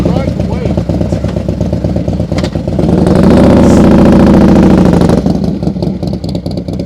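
Motorcycle engine at low speed during night-time advanced slow-speed riding practice, a steady mid-pitched drone that swells louder and rougher midway as the throttle is held, with voices talking over it throughout.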